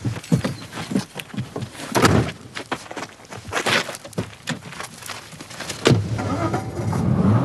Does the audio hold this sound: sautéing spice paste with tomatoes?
no